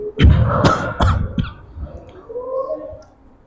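A person with a cold coughs during an Islamic study gathering: several harsh, close bursts in the first second and a half, then quieter throat sounds trailing off.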